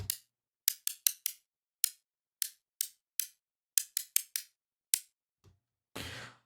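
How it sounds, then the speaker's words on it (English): White noise layer in a music production, heard as short, sharp, hissing bursts in a stuttering rhythm, followed by one longer, fuller noise swell at the end; fairly quiet and alone. "And then we have the white noise."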